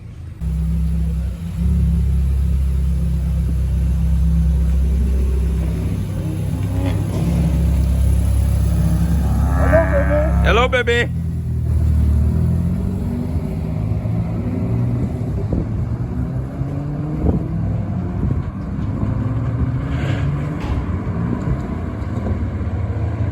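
A turbocharged Ka car engine idles with a loud, deep rumble that fades partway through, leaving a lighter running drone; a voice speaks briefly midway.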